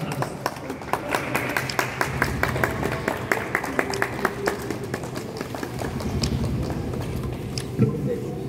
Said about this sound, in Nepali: सबै साथीहरू ताली बजाइदिनु होला।